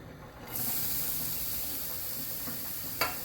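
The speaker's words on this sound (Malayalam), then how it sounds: "നെയ്യ് ചേർത്ത് കൊടുത്തതിന് ശേഷം നമുക്ക് ക്യാരറ്റ് ഗ്രേറ്റ് ചെയ്ത ക്യാരറ്റ് ചേർത്ത് കൊടുക്കാം" Grated carrot drops into hot ghee in a pan for a Kerala kaipola, setting off a steady loud sizzle that persists under light stirring, with one sharp clink or spatter near the end.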